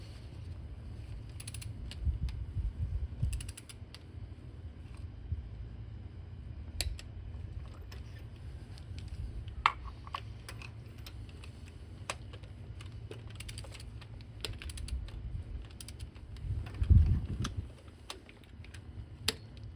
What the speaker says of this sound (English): let's get them torqued down